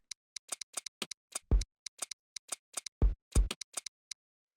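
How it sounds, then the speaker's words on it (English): Minimal house percussion samples from a drum rack: a sparse pattern of dry, crisp ticks and clicks, with a few deeper thumping hits mixed in, playing cleanly with no voices. "after that we have this drum rack,"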